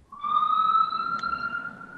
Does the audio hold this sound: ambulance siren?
yes